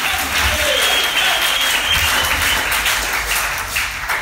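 Loud, sustained applause from a large audience at a French-language religious gathering fills the space with dense, continuous clapping and crowd noise throughout.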